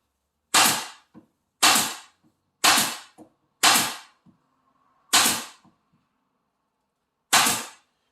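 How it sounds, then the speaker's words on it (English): A pneumatic 23 gauge upholstery stapler fires staples into wood, six sharp loud snaps spaced about a second apart with a longer pause before the last, each followed by a quick tail. "I'm just going to peg everything right now with the 23 gauge stapler there."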